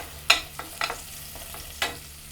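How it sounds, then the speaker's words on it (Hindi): Julienned carrots sautéing in half a cup of cooking oil in a pot, with a few sharp scraping stirs and soft sizzling bursts spaced irregularly over a low steady hum, close and moderately loud. "पहले इसको हम सौते कर लेंगे 2 मिनट।"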